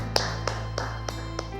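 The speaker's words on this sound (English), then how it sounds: "a round of applause for that." Sparse applause at a maths teachers' seminar: about five slow, evenly spaced claps over a steady low electrical hum, close and fairly distinct.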